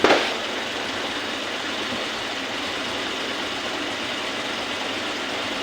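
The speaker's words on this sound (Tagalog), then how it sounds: "Yan ang aking motor na may sidecar." A motorcycle with a stainless sidecar idles nearby with a steady, unbroken engine rumble and hiss that barely changes, following a brief louder burst at the very start.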